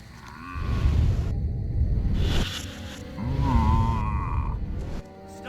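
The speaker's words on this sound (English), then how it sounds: "they've genetically altered these pathetic gas bags and turned them into radioactive exploding zombie cows!" Mutant radioactive zombie cows from the game Destroy All Humans! low-pitched, groaning moos, two long bellowing calls with a short break between them, loud and close.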